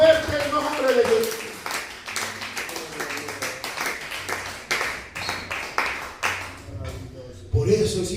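Church congregation clapping loudly and rhythmically in steady beats under a preacher's voice and music, with a brief pause before the clapping resumes.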